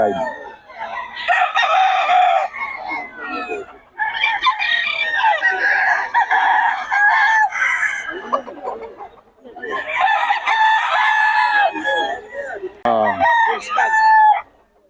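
A bull stag gamefowl rooster crows loudly and close by in several long, strained calls separated by short pauses, with clucking in between.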